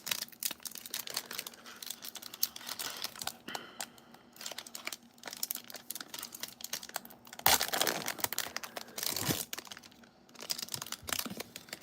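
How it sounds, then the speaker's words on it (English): Crinkling and tearing of a plastic wrapper on a 2026 Donruss mega box trading card pack, with a steady run of small crackles over about twelve seconds and a louder rip near the middle. No one speaks. "struggling to open a pack of cards up"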